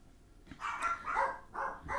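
Several dogs bark in quick, loud bursts close by, a few sharp woofs followed by overlapping barks over about two seconds.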